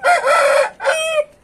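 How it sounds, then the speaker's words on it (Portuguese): A rooster crows loudly and close by, one strong drawn-out call broken by a short gap into a second rising note, with no talk over it. "Então, optei por pegar esse galo aqui."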